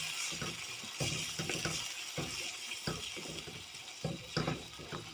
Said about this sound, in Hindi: हम इसमें दही शामिल कर देंगे। और इसको अच्छे से मिक्स कर देंगे।